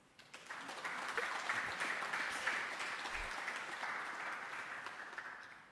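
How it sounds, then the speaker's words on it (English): An assembly audience at a parliamentary forum gives a round of applause, a steady, fairly distant wash of many clapping hands that swells quickly and carries on evenly throughout. "May you kindly give him a round of applause."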